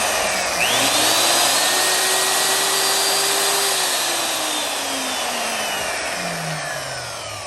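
A restored Black and Decker Model 6126 Type 3 electric polisher runs continuously with a loud, steady whining motor hum whose pitch drifts slightly and dips toward the end, with no one speaking.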